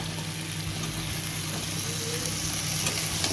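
Green onion stalks hit hot spice paste in a pan, giving a steady, loud sizzle and crackle of frying that stays even throughout, with a low hum underneath.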